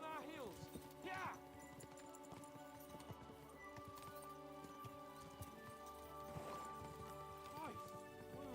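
Horses gallop in a video game, rhythmic clip-clop hoofbeats with occasional whinnies, running under game music and character voices talking throughout.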